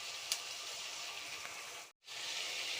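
Ivy gourd frying in a pan, a steady, even hiss of sizzling oil that runs on without a break, with one short crackle early on and a brief pause before the sizzle picks back up.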